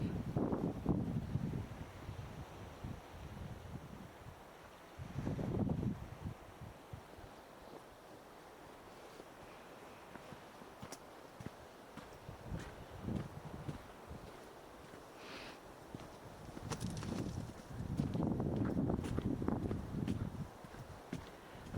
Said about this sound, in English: the waves are just crashing on the beach and crashing on the harbour, and yeah, it gets very windy